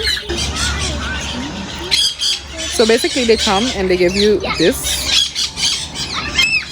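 Birds at a bird park in St. Maarten squawk loudly in harsh, wavering calls, several bursts close by, with a person talking over and between them.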